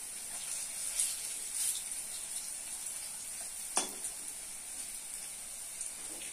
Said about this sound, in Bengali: কম আঁচেই ভাজতে হবে।